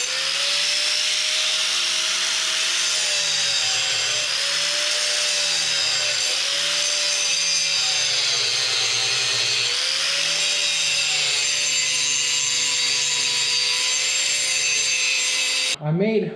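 Angle grinder working metal on the seized loader of a John Deere 2010 tractor, a loud continuous whine with shifting pitch that runs steadily for about sixteen seconds before cutting off.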